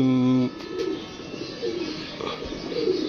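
A red-eyed pigeon coos softly and briefly nearby, after a short tonal beep at the start, with faint indistinct sounds and background noise throughout.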